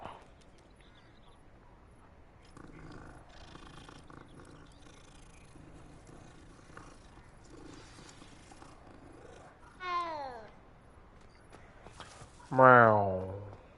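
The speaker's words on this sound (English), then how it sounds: "Kitty cat." A cat in Hogwarts Legacy gives two short rising meows, the second louder and closer, after a quiet stretch of faint ambient game sounds.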